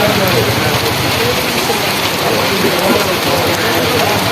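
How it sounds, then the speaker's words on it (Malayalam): Heavy rain pours down steadily and loudly, a dense continuous patter with no breaks. "ആ നല്ല മഴയാണ് കേട്ടോ"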